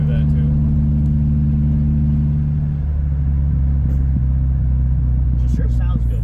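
Subaru WRX with an axle-back exhaust idles and pulls away, a loud, deep, steady engine rumble close by, with people talking over it.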